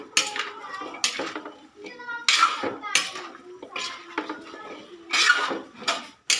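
Vegetables for pakbet sa gata are stirred in a cooking pot, giving repeated metallic scrapes and clinks of a utensil against the pot in an uneven rhythm, with some voices in the background.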